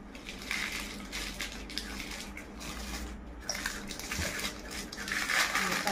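Large spoons and other cutlery from a new dinner set being handled and unpacked, with rustling packaging and light metallic clinks and scrapes at close range and no speech.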